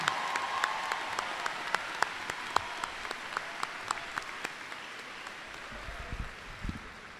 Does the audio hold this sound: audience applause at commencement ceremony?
yes